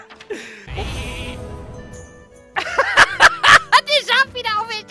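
Sheep bleating in a video game, a few short electronic tones first, then a string of loud, wavering bleats overlapping with laughter and excited voices.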